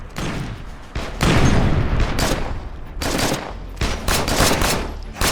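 Mortar barrage and heavy gunfire in the State of Decay Lifeline video game: dense, continuous bursts of automatic fire and booming impacts, loud and sustained with brief dips, no talking.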